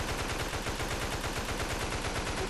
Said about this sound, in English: Oh, crap, someone's shooting me.